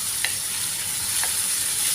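Sliced beef sizzling steadily in a hot pan, a constant close frying hiss with a couple of brief stirring clicks.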